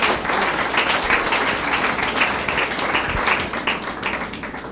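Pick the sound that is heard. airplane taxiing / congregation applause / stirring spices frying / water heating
congregation applause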